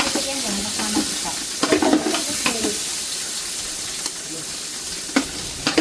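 Meat frying in hot oil in a home kitchen, a continuous crackling sizzle with sharp spits and pops, plus brief scraping stirs and clinks close by.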